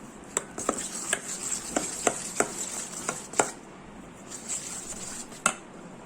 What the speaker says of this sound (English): This is how we have to mix the solution.